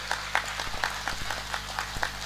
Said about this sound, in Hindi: एक बार उन सभी संत महापुरुषों का ताली बजा के स्वागत करो